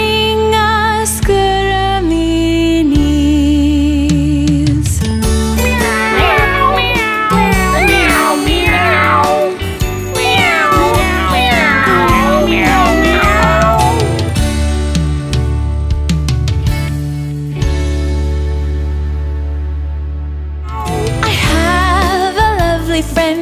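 A cat meows repeatedly inside a children's song, its rising and falling cries woven loudly through the full musical accompaniment and continuing across the whole passage.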